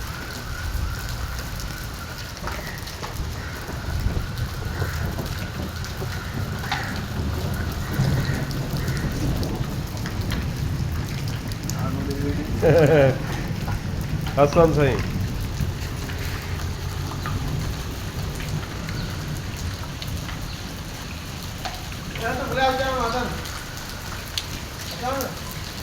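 First monsoon rain of the season pours steadily on Lahore, a dense constant patter with a few brief low rumbles, while people talk over it.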